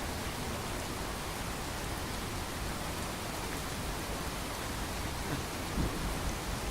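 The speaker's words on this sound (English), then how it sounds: "It's still raining its ass off?" Steady, dense rain pours down in a video game with a continuous hiss, and a low rumble of thunder swells briefly near the end.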